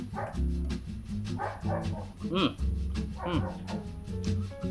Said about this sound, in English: Dogs outside, crickets doing the thing.